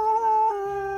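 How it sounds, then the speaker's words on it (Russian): Dog howling in a Russian-dubbed Legend of Zorro cartoon: a single sustained, wavering tonal howl that dips in pitch midway and holds steady, close and fairly loud, with no talk over it. "Ко мне что, забрела собака?"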